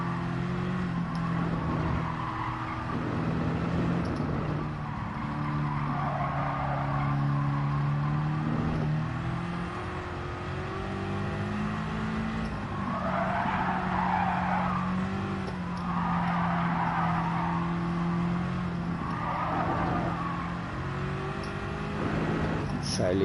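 Big, heavy race car in Gran Turismo 7 sliding through corners, its engine droning and shifting pitch while the tyres squeal and skid in repeated bursts, with someone talking over it at times.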